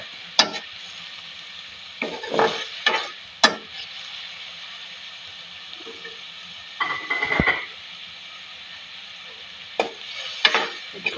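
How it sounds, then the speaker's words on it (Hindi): Chopped capsicum, onion and green chillies frying in a pan with a soft sizzle underneath, broken by sharp close scraping and stirring strokes in irregular bursts, several clustered and a longer scrape midway. "इसको अच्छी तरह मिक्स कर लेंगे।"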